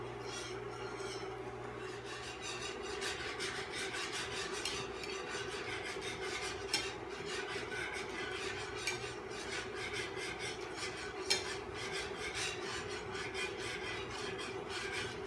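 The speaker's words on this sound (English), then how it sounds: "we're going to start stirring until we get everything to melt together and pretty much caramelize" Spoon stirring a rum cake glaze in a pot as it melts and caramelizes, giving a steady scraping, rubbing sound with irregular soft clinks against the pan throughout, close and moderately loud, with no talk.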